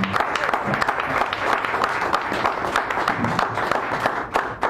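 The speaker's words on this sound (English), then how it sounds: "so let's give them a round of applause one more time." Audience applause at an open mic in a cafe, a dense, steady wash of clapping from a small crowd, loud and close, continuing throughout.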